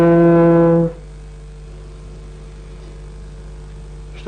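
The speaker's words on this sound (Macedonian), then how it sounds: "Ама убаво трубиш, другар." A trumpet blows a single loud, sustained note for under a second, then cuts off, leaving a quiet, humming room.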